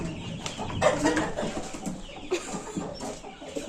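A rooster and other fowl give faint, scattered clucks at a distance, low in level against quiet background bustle.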